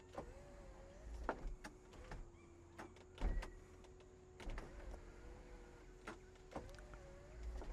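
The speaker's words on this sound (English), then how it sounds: "Tilt inside sunroof." A Volkswagen Corrado's electric sunroof tilts open with a thin, steady motor whine, quiet and close inside the car, punctuated by scattered clicks and soft knocks.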